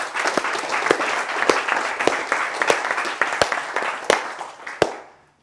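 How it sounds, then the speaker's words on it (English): A round of applause from a group gathered at a business team meeting, a dense continuous clatter of many hands with sharp individual claps standing out, ending abruptly. "So round of applause."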